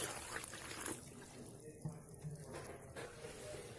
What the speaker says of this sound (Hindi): और थोड़ा पानी डालेंगे।